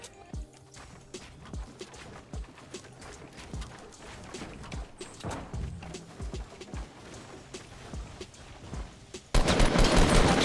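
Gunfire in Fortnite: Battle Royale comes as scattered sharp shots and quick bursts at varying distances, some close and loud. A louder, dense burst of noise fills the final second.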